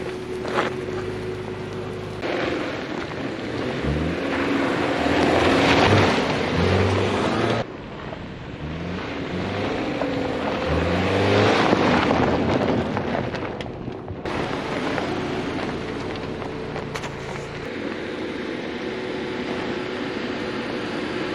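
A 2022 Subaru Forester Wilderness working its engine off-road while partly stuck with rear wheels lifted, a steady droning roar with surges, mixed with wind buffeting on the microphone.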